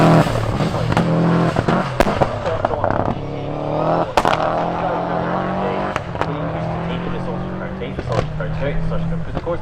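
Rally car at Knockhill's McRae Rally Challenge flying over a crest, engine roaring loud and close with sharp bangs and pops from the exhaust, a commentator talking over it throughout.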